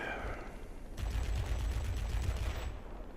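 The XF5U warplane's guns fire in World of Warplanes as a rapid, steady, buzzing stream of shots that begins abruptly and holds for about two seconds over a droning engine.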